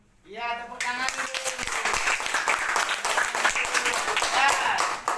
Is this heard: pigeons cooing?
no